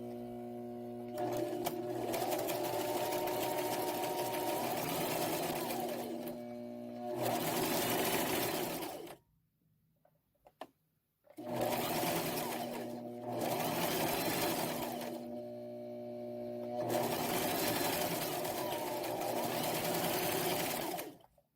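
A sewing machine stitches a custom wedding gown in loud, fast, steady bursts. It runs for several seconds at a time, stops briefly, then starts again, with near-silent gaps between runs.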